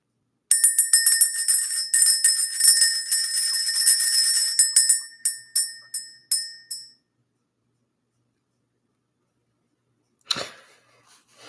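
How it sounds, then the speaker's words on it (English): A bell rung during a spiritual reading clangs in rapid, overlapping strikes for several seconds, then rings in slower separate hits that die away. After a silence, one more short strike is heard. "Let's ring the bell."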